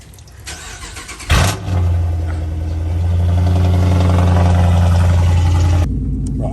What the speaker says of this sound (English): I'm about to give you all this little cold start real quick before I go